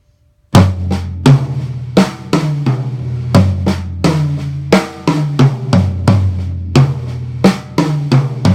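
A drum fill mixing soft ghost notes with loud accented hits, giving an uneven dynamic rhythm of strong strikes separated by quieter taps across the kit, played close and clear.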